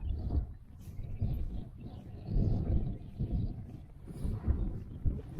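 Gusty wind coming up a valley buffets the microphone in uneven, rumbling bursts, rising and falling throughout with no voices.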